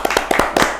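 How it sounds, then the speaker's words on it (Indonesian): Handclaps from an audience, a short patter of a few quick claps in a quick uneven rhythm, close and moderately loud, at the opening of a talk show segment. "Tepuk tangan untuk Mr. Puisi Live."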